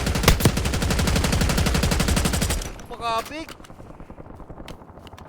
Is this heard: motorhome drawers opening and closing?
no